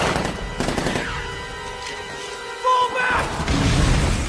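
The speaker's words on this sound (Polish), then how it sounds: "Fajny wybuch, nie?" A big-budget film scene delivers an explosion as a burst of sharp blasts and crackling debris, followed by a hollow lull and a second rumbling surge, loud and close.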